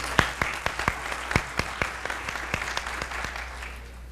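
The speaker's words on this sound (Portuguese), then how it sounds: "Por favor, uma salva de palmas." An audience at a business conference in Brazil claps in a lively burst of applause, individual sharp claps standing out over a steady patter that gradually thins toward the end.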